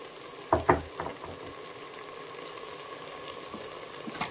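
Ginger garlic paste drops into a hot pan with a few sharp bursts of spitting sizzle, then settles into a soft, quiet frying hiss.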